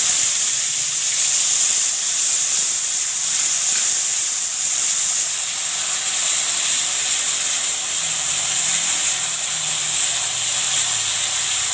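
Onion gravy hits a hot pan of tempered oil for a raw papaya curry, producing a loud, steady, close-up sizzling hiss that runs unbroken throughout.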